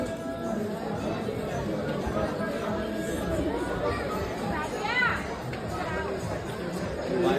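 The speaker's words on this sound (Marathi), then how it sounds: "पाहू शकता तुम्ही गर्दी किती आहे." A dense crowd murmurs and chatters inside a busy temple, a steady wash of many overlapping voices from all around, close and continuous with no single voice standing out.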